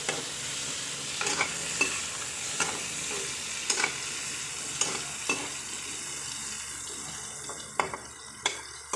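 Chicken pieces for afritada sear in a frying pan with a constant close sizzle, broken by occasional clinks and scrapes as the pieces are stirred.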